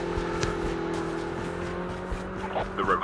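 Motorcycle engine in Call of Duty Mobile, a steady droning motor with sustained tonal whine running throughout, faint game sounds around it and a brief burst of other effects near the end.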